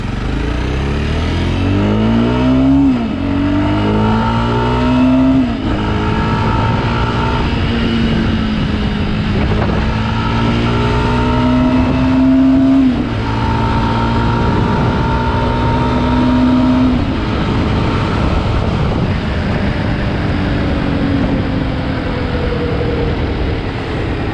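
A 2021 Jawa Perak motorcycle engine runs steadily throughout, its pitch rising and falling with repeated revs and gear shifts, close and loud.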